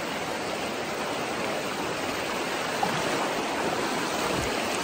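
River water rushes steadily at a hiking crossing, a dense, continuous wash of flowing noise held close and even throughout, with no voices.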